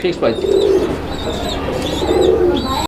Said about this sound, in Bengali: আপনারা কবুতর দেখেন এই যে দেখেন কবুতর